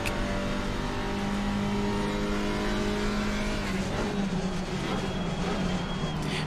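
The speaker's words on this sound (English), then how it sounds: "Gear shift sounds interesting. Sounds a bit" A GT4 race car engine in the video game Assetto Corsa Competizione drones loudly and continuously, its pitch dropping partway through as a gear changes, with a faint metallic edge.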